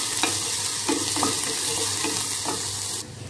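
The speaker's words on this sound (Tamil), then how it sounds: "ரெண்டு வெங்காயத்தை நல்லா வதக்கிக்கலாம்." Two onions sautéing with garlic and curry leaves in a little oil over low heat for chutney, a steady soft sizzle with a few scraping stirs of a spoon against the pan, close and alone.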